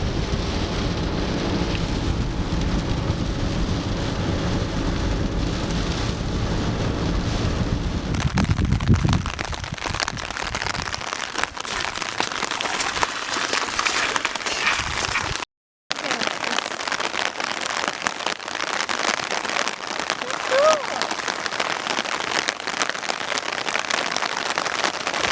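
Heavy rain pours steadily during a California bomb cyclone winter storm in 2023, a loud, dense hiss of drops on surfaces, with a brief sudden cut midway and a low rumble early on.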